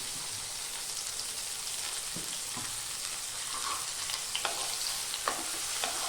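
Cubed tomato frying in a pan, a quiet, even sizzle with a few soft ticks and clicks from the pan near the end, no one speaking.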